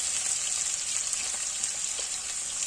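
Diced potatoes and finely chopped onion fry in hot oil in a pan while cooking aloo methi, giving a steady, close hiss of sizzling with small crackles and no talk.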